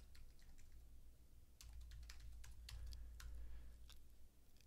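Someone types an email address on a computer keyboard: quiet, quick, irregular key clicks over a low hum, close and faint, with no voices.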